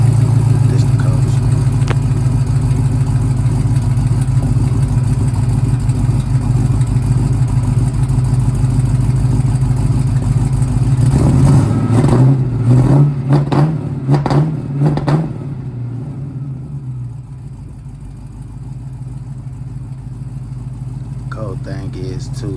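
Engine of a 1987 Oldsmobile on 24-inch wheels with a swapped-in 2005 Cadillac Escalade 6.0 V8, rumbling steadily up close with a few sharp revs before settling back to idle.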